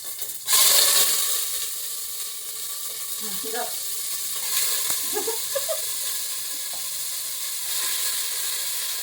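Chicken hits hot oil with a sudden loud sizzle that settles into a continuous crackling fry, with faint voices and clatter underneath.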